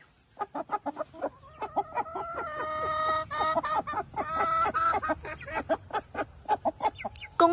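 A rooster and hens around a laying nest make a close series of rapid clucks with drawn-out, tuneful cackling calls in the middle, and the clucking goes on in short bursts after that.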